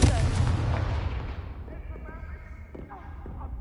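Confringo fire spell cast in Hogwarts Legacy on PS5: a loud, booming burst right at the start that rolls off into a fading rumble with small crackles, with no talk over it.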